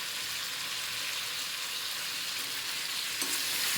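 Onions frying with pork in a pan, a dense, continuous sizzle and crackle heard close and steady throughout, with a brief louder stir near the end and no voices.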